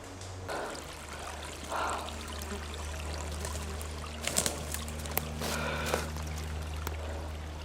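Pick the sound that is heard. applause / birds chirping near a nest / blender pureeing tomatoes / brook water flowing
brook water flowing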